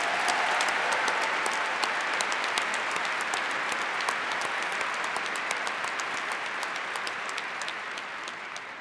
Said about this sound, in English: let's have a round of applause for our wonderful musicians and singers.